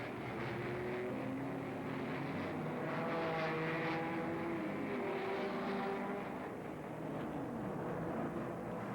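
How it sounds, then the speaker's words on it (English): A gas turbine race car winds up its jet at the start of the 1968 12 Hours of Sebring, making a continuous whining roar with tones that slowly climb and shift. "Dr. Dick Thompson slowly winds up the jet in an effort to make his blast off"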